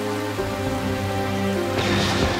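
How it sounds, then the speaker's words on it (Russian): Steady rain hisses throughout, with a low sustained musical drone underneath that swells near the end. "Снова шел дождь."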